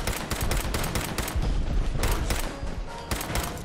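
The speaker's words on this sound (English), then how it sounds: "I shoot him in the foot." Rapid gunfire in the video game Fallout 4, a loud, dense string of repeated shots with several sharp cracks each second, continuing throughout.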